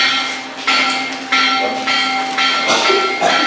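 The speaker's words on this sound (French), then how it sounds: "Au premier son de cloche du centre de composition, à 8h30" A school bell rings repeatedly at an exam centre with sustained metallic tones, several strikes overlapping in a steady ringing, fairly loud and with no voices.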